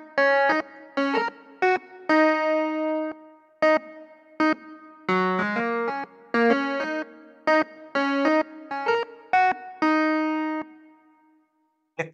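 Keyboard vamp played on a buzzy, brassy electronic keyboard sound, a syncopated run of short punchy chords and held notes over about twelve seconds, clean and solo without voices.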